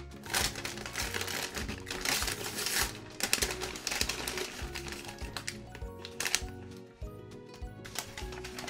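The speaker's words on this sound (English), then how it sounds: "So here I ripped out the bottom of the bag." A paper bag has its bottom torn out, producing continuous close crackling, crinkling and ripping paper noise with scattered sharper tears and no talking.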